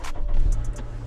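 A 2018 Nissan Rogue engine turns over and catches in a brief burst, settling into a steady low idle, with a few short higher clicks or chirps above it.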